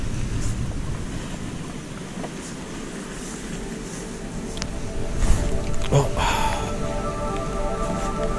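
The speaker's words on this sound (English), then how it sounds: "I've been out here for like an hour and a half in this awful rain" Heavy rain falls on a new fishing boat on a bay, a steady broadband hiss with scattered drops and a few knocks and clatters near the middle, growing louder toward the end.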